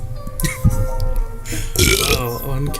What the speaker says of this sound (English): I burp.